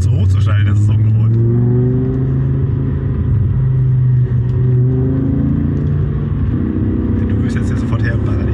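A BMW E60 M5 with its V10 and manual gearbox accelerates hard, a loud, steady engine roar rising through the revs and holding close for the whole stretch, with faint talk underneath.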